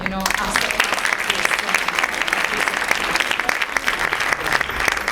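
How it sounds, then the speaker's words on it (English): Closing round of applause at a European corporate foundations conference, a steady crowd of clapping hands with sharp individual claps standing out, sustained throughout. "I would like the closing round of applause for the French Foundation Center"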